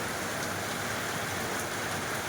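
Heavy monsoon rain in Goa pours down in a steady, dense hiss, close and loud throughout, with no voices.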